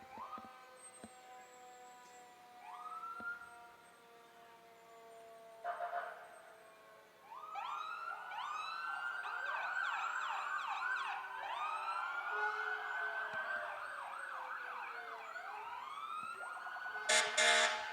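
A Pierce fire engine siren wails during a downtown Christmas parade, starting faint and distant with rising tones, then swelling into loud, continuous sweeping wails, with a sharp blast near the end.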